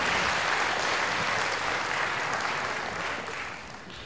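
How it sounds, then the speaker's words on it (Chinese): An audience at a Yilan elementary school event claps warmly to welcome the school principal, a dense, even roar of many hands that slowly tapers off over four seconds. "让我们用热烈掌声欢迎我们南宁国小校长"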